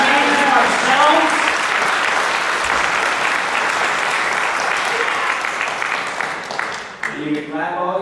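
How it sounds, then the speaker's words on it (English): An audience claps throughout at a Montana suicide prevention talk, with loud, sustained applause from a large crowd that thins slightly near the end, with some voices mixed in. "You can clap all you want"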